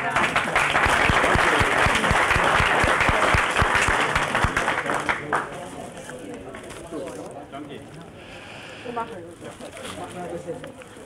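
A gathering at a jubilee ceremony for a neighbourhood bus association breaks into loud applause for about five seconds, then it fades into murmuring voices and quiet talk.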